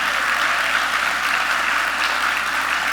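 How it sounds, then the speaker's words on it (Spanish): A church congregation applauds at a Sunday service, dense steady clapping from many hands, loud and continuous throughout. "Hermanos, aplauda de verdad."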